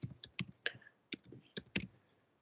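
A computer mouse clicks in a quick, close series of sharp, faint taps, a few spaced clicks and short doubles with no talk.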